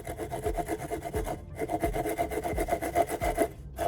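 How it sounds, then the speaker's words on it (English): A freshly sharpened hand saw cuts through wood clamped in a vise, making a steady rhythmic rasp of quick back-and-forth strokes, close and moderately loud with a brief pause midway. "Watch how effortlessly the restored saw glides through the wood now."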